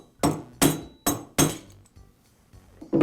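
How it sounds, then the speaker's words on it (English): A mallet taps a socket to drive the armature out of a DeWALT reciprocating saw, four close, sharp knocks in quick succession, then softer taps and a final strike. "I'll place the socket on the armature shaft and use a mallet to tap the armature free."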